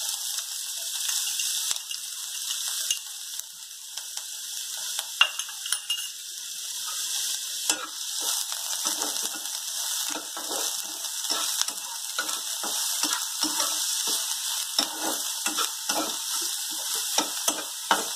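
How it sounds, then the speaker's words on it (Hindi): Chopped onion goes into about half a teaspoon of hot oil for stuffed pointed gourd. A steady high sizzle runs throughout, with dense crackles and scraping stirring ticks that pick up in the second half. No one speaks. "अब हम इसमें कटा हुआ प्याज डालेंगे।"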